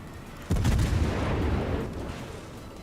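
Secondary battery guns of a warship in World of Warships fire in a loud booming burst that rolls on and slowly decays, with no talk over it.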